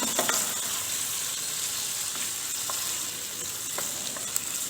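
Boiled potatoes tossed in melted butter with a wooden spatula hiss in a steady, close frying sizzle, with a few soft scraping strokes over the continuous crackle.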